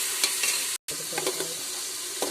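Tomato and crushed ginger-garlic paste drop into a hot pressure cooker for boti meat, setting off a steady close sizzle with a few stirring scrapes and one brief silent gap.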